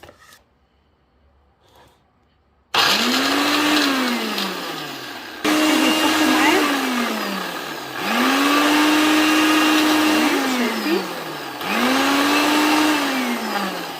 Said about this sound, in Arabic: هنضرب الخليط ده في الخلاط.